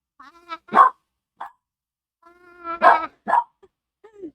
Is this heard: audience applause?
no